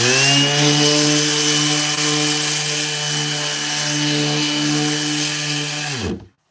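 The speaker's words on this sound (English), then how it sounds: "I like that little blower that Savell sent me." A small handheld blower whirs steadily and loudly with a strong motor hum, running continuously for about six seconds before cutting off and spinning down.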